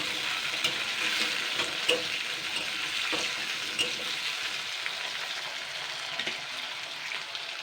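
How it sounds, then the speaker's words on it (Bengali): Sliced, peeled and washed potatoes frying in a pan give a steady, dense sizzle with light crackles and a few soft stir or scrape taps, even and close throughout with no talking. "এটাকে আমি জাস্ট ভালো করে ফ্রাই করে নেবো আলুটাকে।"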